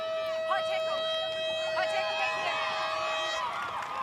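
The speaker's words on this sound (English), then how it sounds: "Siren sounds." A long steady siren tone blares over a rugby match crowd, holding one pitch for several seconds before cutting off, with commentators speaking over it.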